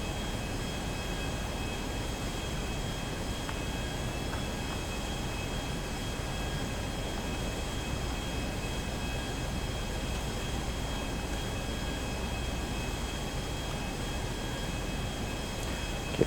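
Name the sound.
airplane flying in video game GTA V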